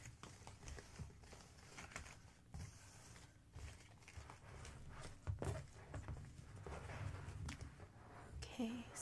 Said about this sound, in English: I will give a little shuffle to the cards.